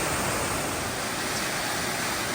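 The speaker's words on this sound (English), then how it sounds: "this is a pretty big waterfall" A large waterfall pours down a steep mountain ravine on Moosilauke's Tunnel Ravine, making a loud, continuous roar of rushing water that fills the whole clip with no voices.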